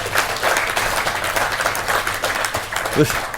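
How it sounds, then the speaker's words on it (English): Audience applause at a political Fringe meeting, a steady wash of clapping filling the room throughout, with voices mixed in beneath it. "There's been more applause in this Fringe meeting than any other previous meeting"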